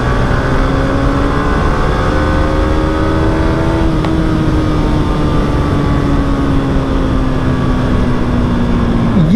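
A Yamaha R15 motorcycle engine hums steadily and loudly up close, its tone rising and falling slightly as it revs, with no one talking over it.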